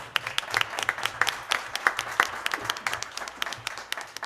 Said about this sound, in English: So we may have a round of applause.